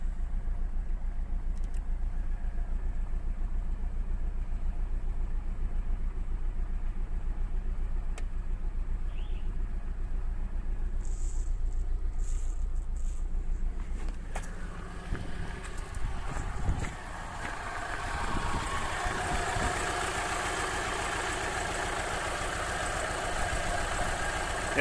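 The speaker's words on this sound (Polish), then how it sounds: "Jak widać, silnik pracuje równo, zarówno na benzynie, jak i na gazie." An Alfa Romeo 156 2.0 Twin Spark engine with an LPG conversion idles on petrol with a steady low hum, close by; gusts of wind rumble over the microphone in the second half.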